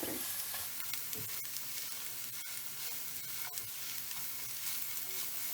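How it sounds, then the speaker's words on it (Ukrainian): Steady sizzling of food frying in a pan, a continuous hiss with occasional soft clicks and stirring taps. "І просмажу хвилини 2-3."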